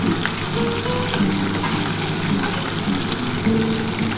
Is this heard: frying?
yes